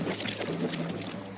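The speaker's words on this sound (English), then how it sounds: "Now you keep rowing so we won't get pulled over those falls." Cartoon rowboat being rowed hard upstream of waterfalls, giving a steady, dense wash of water and paddling noise that stays continuous and fairly loud for a brief moment.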